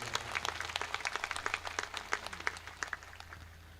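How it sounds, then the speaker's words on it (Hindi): A crowd applauds in tribute to Kalu Bhai, the mourner's dense clapping running steadily at a moderate distance over a low constant hum, no voices. "एक बार कालू भाई के लिए जोरदार तालियां बजा करो"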